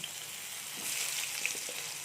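Pointed gourd and potato fry in hot oil, a faint, even sizzle with a few soft crackles, close and without voices.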